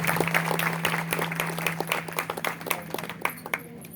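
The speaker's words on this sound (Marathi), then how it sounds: "एकदा परत एकदा दणदणीत टाळ्या होऊन जाऊ द्या" A crowd at a Ram Mandir program breaks into loud, sustained applause welcoming Lord Rama. The clapping is dense and steady at first, then thins into more scattered individual claps toward the end, with a faint steady hum underneath.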